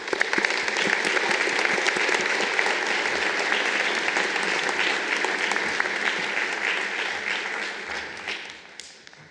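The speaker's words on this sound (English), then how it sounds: "Let's give a big round of applause to all of the individuals who have worked so hard to graduate today." A large convocation audience applauds graduates with loud, continuous clapping that holds steady for several seconds before tapering off at the end.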